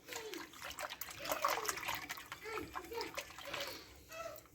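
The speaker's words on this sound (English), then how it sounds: "I like to go ahead and kind of mix in the starter with the water" Sourdough starter stirred into water in a bowl, giving close, uneven sloshing and splashing with soft liquid trickles that rise and fall throughout, with faint voice-like sounds in the background.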